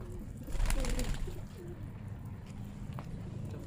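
Pigeons drinking from a water dish, soft low cooing near and faint against light background noise, with a few scattered bird sounds.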